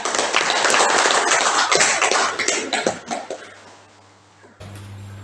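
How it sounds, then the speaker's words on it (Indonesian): Pupils clapping in a classroom at the end of a lesson, a burst of quick, uneven hand claps close by that thins out and fades over about four seconds before a low hum takes over. "Tepuk tangan untuk kalian."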